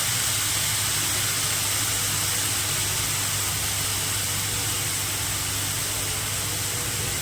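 Goat brain sautés in a pan over a high flame for bheja fry, giving a loud, constant hissing sizzle that runs unbroken from start to finish with a low steady rumble beneath.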